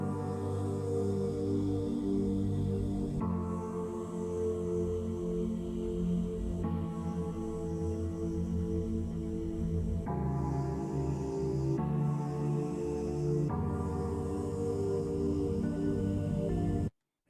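Dense layered synth textures with a deep bass drone and dark pads, shifting in sections every few seconds, loud and continuous without speech.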